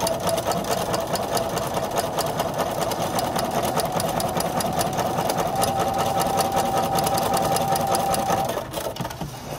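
A sewing machine runs steadily, stitching quilt pieces for an Ohio Star quilt block, with a fast even whirring hum that holds for several seconds before slowing at the end.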